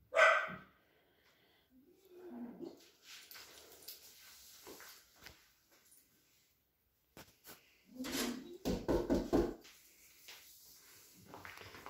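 A dog barks in short separate bursts between long quiet gaps, a few close sharp barks and some whimpering noises spread across the stretch.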